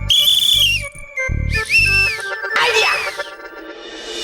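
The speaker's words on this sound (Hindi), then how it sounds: "बापूजी अलमारी से तो बाहर निकल गए, लेकिन उनके गले से सीटी कैसे निकलेगी?" A person blows a series of shrill, wavering whistle tones in separate bursts over low rumbling sounds, loud and close.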